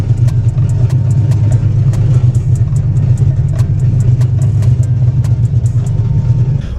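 A cheap, partly repaired Nissan 300ZX with a driveshaft hitting the heat shield rolls along under its own power, a steady loud low engine drone and road rumble filling the whole stretch with no talk.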